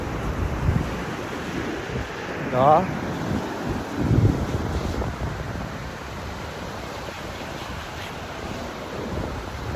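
Sea waves at Tiruvanmiyur beach wash in a steady, moderate roar mixed with wind buffeting the microphone, with a couple of swells rising briefly and faint voices in the background.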